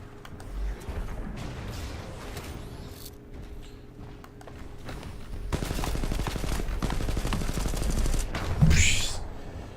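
Video-game gunfire: scattered shots and thumps over a low droning background, followed by a sustained loud rattling barrage in the second half that ends in a sharp burst.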